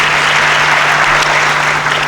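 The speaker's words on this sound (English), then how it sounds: "I hope you give it up for us and clap for that" An audience at a talk on Ghanaian standards applauds, with a dense, continuous wash of clapping at full strength throughout and a low electrical hum underneath.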